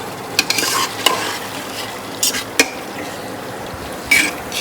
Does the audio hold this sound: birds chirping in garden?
no